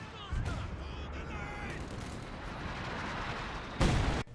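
Counter-battery artillery in Company of Heroes 2 fires in-game, with a sustained rumble of distant shelling and a sharp loud blast near the end, all heard faintly beneath game ambience.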